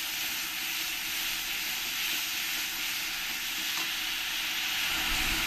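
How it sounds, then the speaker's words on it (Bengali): Onion paste frying in a pan for a Bengali-style rui fish curry, a steady broadband sizzle and hiss heard close and continuous throughout. "বড় সাইজের এক চামচ পেঁয়াজ পেস্ট দিয়ে দেবো, দিয়ে ভালো করে একটু কষিয়ে নেব"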